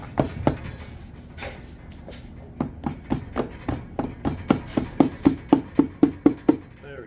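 Repeated whacks on the clutch side cover of a Suzuki DRZ125 dirt bike during clutch-side removal. A long series of sharp metallic knocks speeds into a quicker, louder rhythm toward the end, close up, with no voices.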